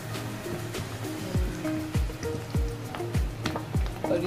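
Potato fingers drop into hot oil for deep-frying, giving a continuous bubbling sizzle with repeated low plops as pieces go in, close and fairly loud, with no talk.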